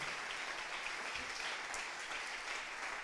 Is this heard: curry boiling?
no